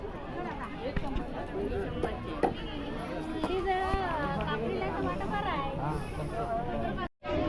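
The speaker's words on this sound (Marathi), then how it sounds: "बाजारात भरपूर गर्दी असते" Busy weekly village market at Sangameshwar with fish stalls, thick with overlapping voices and chatter from a dense crowd, steady and close throughout, with footsteps and occasional knocks under the babble.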